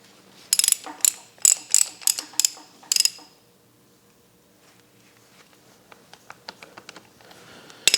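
A socket wrench ratchets in quick, loud clicking bursts up close while removing a socket during an oil change on a Bobcat S850, then fainter scattered clicks and taps follow.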